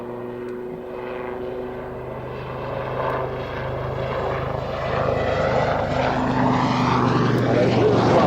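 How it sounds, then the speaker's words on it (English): Lynx military helicopter flying a display, a steady droning rotor and engine roar that swells gradually louder as it nears, heard from the ground at an air show, no voices. "Powerful aircraft, the Lynx, has to be, even with soldiers on board, missiles, you name it."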